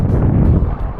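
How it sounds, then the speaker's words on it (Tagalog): Strong northeast monsoon wind at sea buffets the microphone during a fishing trip, a loud, close, low roar that persists without pause, with no speech. "Malakas pa rin ngayon ang amihan"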